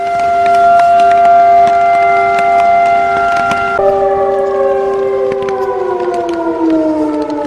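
Tornado sirens wail continuously in steady sustained tones that shift and drop in pitch partway through, loud and alone with no talking, during a night storm on a kayak camping trip along a creek.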